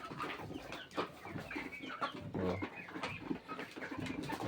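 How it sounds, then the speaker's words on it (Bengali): Chickens on a small poultry farm, several birds clucking and murmuring close by in an overlapping, continuous chatter at low volume. "মুরগি অল্প করা আছে ফার্মে"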